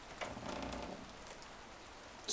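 Rainfall in the video game A Storied Life: Tabitha, a gentle steady patter of drops on a surface, quiet and continuous, ending with a brief louder tap.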